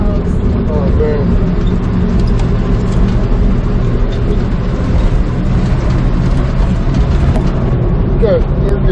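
A 1965 Chevy C10 pickup's engine runs steadily while driving, a continuous loud low rumble from inside the cab with voices talking over it.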